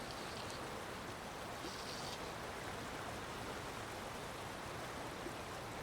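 River water flowing steadily, a broad constant rush close by with no breaks and no voices, heard while dry-fly fishing in the evening.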